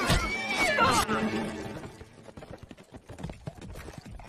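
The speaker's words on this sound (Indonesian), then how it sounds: "sekelompok pasukan berkuda pun mulai mengejar dan mendekati" Cavalry troop horses galloping in a rapid clip-clop of hooves, loud at first under a shouted voice and music, then thinning into scattered hoofbeats and clatter as the riders close in.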